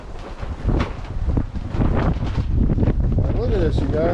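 Strong wind buffets the microphone outdoors during a rifle hunt, a loud continuous rumbling roar with a voice speaking over it.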